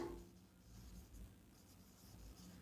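Handwriting during a biology lesson on the human digestive system: a pen or marker scratches and rubs steadily across a board or page, soft and close, with no voice over it.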